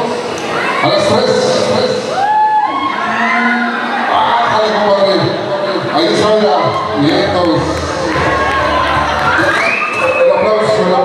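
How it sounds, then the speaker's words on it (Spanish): Wedding reception guests cheering, whooping and clapping in a lively indoor crowd, loud and continuous, with shouted voices and talk mixed in. "El aplauso, el aplauso."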